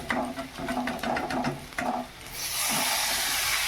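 Cabbage is tipped into a hot cooking pan, light clattering and scraping giving way to a steady, fairly loud sizzling hiss.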